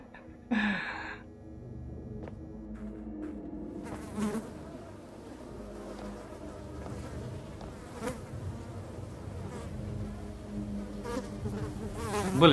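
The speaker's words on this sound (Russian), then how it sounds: "Блин, мухи тут что-то" Flies buzz in the Twin Soul demo horror game, a dense, continuous insect drone that swells in after a short thud and carries on steadily for over ten seconds, with a sigh-like breath early on.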